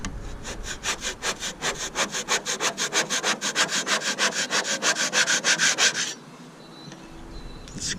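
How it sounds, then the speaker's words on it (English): Cooked paint is scraped off an R33 drift car in a fast, rhythmic series of about thirty rasping back-and-forth strokes, loud and close, stopping abruptly and leaving a quiet room with faint handling sounds. "Let's see if it scrapes. We have our cooked paint."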